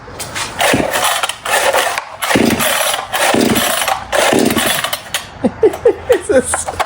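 A cheap Temu chainsaw's recoil starter is yanked repeatedly, giving loud, rough ratcheting pulls in quick succession up close, followed by a run of shorter, faster tugs toward the end without the engine catching.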